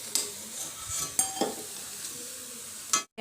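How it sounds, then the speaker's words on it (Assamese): Onions frying in a little oil in a pan make a soft, steady sizzle, broken by a few sharp clinks of a utensil stirring against the metal before the sound cuts off abruptly. "এতিয়া মই পিঁয়াজ অকণমান তেলত ভাজি লৈছোঁ।"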